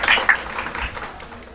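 A crowd at a high-flyer pigeon-flying prize ceremony breaks into a short burst of applause, loud at first, then thinning into scattered claps that fade away.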